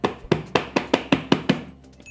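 Eight sharp, evenly spaced taps ring out on an inverted plate being knocked to release a banana flower dish, close and crisp, slowing and fading at the end with no talk.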